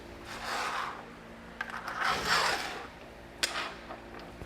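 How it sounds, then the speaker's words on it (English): Square bolts sliding into the mounting tracks of a Thule HideAway awning on a 2011 GMC Yukon: soft metallic rubbing and scraping, with a few brief sharp clicks. "get these square bolts and then fit them into the tracks of your HideAway. So just slide them through"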